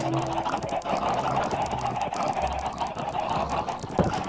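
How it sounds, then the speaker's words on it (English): Minecraft chickens cluck in short repeated calls, fairly faint and set against a busy, steady game background. "There's some chickens down there and some cows."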